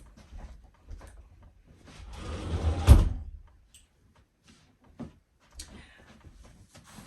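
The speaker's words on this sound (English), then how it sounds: "I'm going to close that door." An indoor door is swung shut with a brief rising swoosh that ends in one solid thud, then a few faint knocks in a quiet room.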